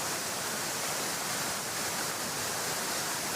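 A constant broadband rush of water pours from Achankallu waterfall, heard up close and loud, a uniform wall of noise with no talking.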